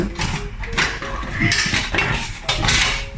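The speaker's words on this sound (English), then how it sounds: "let's cut our tomatoes" A knife cuts through fresh tomatoes on a board, several sharp knocks and clatters at uneven intervals, close and fairly loud, with faint room noise between strikes.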